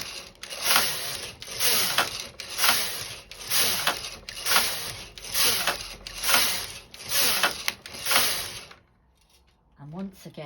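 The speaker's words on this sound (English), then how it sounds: "I now knit 10 rows of stocking stitch" A standard gauge knitting machine carriage swishes back and forth across rows of stocking stitch, about nine rhythmic passes of rattling, clacking sweeps, close and loud, then stopping near the end.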